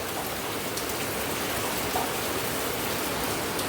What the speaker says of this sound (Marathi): नशी पाऊस चालू झालो